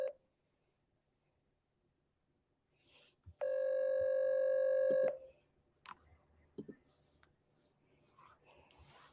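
A telephone call rings out while waiting for an answer: a steady electronic tone of about two seconds sounds alone, with faint clicks and rustles before and after it.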